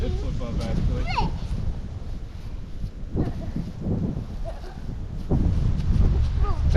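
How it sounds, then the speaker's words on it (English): Strong, gusting wind buffets the microphone outdoors during a fly-line casting test, a continuous low roar that swells toward the end while someone talks over it. "That wind right now is crazy."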